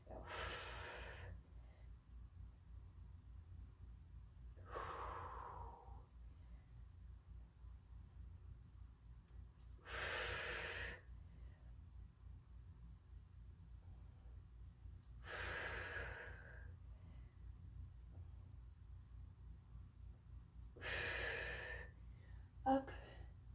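Deep, audible breaths in and out during a Pilates workout, five distinct breaths spaced about five seconds apart, close and fairly loud against a quiet room.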